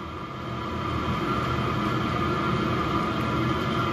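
An 8K diesel air heater runs at full output with a steady, close, roaring rush of blown air and a constant fan hum, alone and unchanging throughout.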